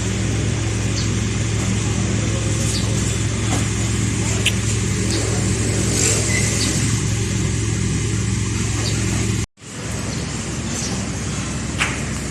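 A six-wheel truck's engine runs steadily with a close, loud, continuous mid-low drone, briefly cut by a sharp dropout before resuming.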